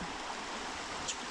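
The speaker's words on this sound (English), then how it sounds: "Here we are, getting ready to ford the river." A river rushing past a ford on the Appalachian Trail where the bridge is out, a steady, even broadband wash of flowing water, fairly faint and unbroken, with no voices.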